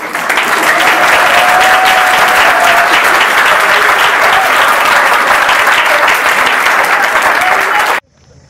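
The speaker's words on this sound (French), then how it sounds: "je voudrais vous demander d'applaudir très fort pour la famille qui nous a prêté cette maison" A loud, dense burst of audience applause fills the room for about eight seconds, steady and close, then cuts off abruptly.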